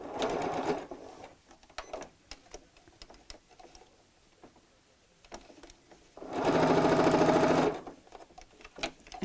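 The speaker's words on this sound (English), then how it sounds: "So I'm going to sew away from the corner by 3 or 4 inches and sew backwards" A domestic sewing machine stitches a tote bag in two bursts, a brief run at the start and a louder, steady run of rapid stitching later, with quieter handling clicks between.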